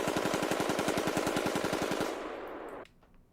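Rapid bump-stock rifle fire rattles off in a fast, even burst of about two dozen shots, loud and close, then cuts off and leaves a short ringing tail.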